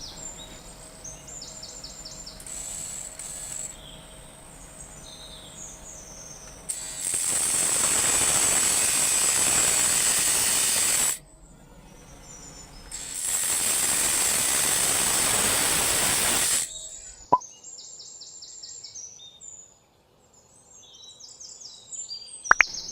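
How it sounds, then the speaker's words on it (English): Metal pipe being cut for a homemade sugar rocket body, in two loud, sustained bursts of roughly four seconds each with a quiet pause between, followed by faint clicks and ambient sounds. "Then we will cut this pipe into our desired shape."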